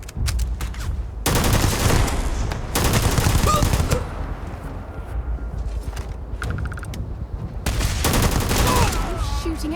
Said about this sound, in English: Shooting at ghosts now.